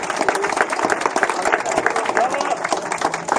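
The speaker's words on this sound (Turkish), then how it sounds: "Kendisini alkışlıyoruz." A crowd claps steadily throughout while a voice talks over the applause at an awards ceremony for a men's sport climbing event.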